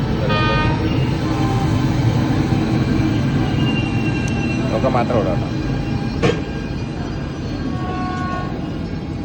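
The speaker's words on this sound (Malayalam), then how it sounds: "ശരിക്കും ഗുഡ്സിന് ഉപയോഗിക്കുന്ന ലോക്കാണ്." A goods-train locomotive rumbles past loud and close with steady rail noise, a brief horn toot and faint wheel squeal, while someone speaks over it.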